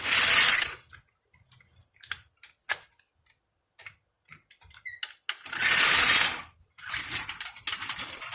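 A jack is ratcheted under a 1976 Chevrolet Vega while a mockup engine block is fitted, giving two loud bursts of rapid mechanical clicking separated by scattered lighter ticks and clacks.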